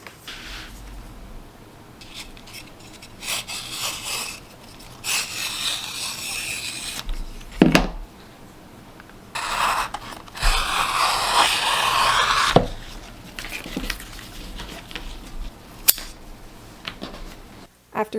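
Leather is cut into leaf and stem shapes, with intermittent bursts of scraping, rubbing and cutting sounds that alternate with quiet pauses and a few sharp clicks.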